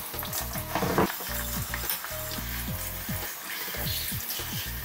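Water rinses OxiClean foam down a bathtub drain, a steady gushing, gurgling wash with a bubbly, fizzing texture throughout, close by and without speech.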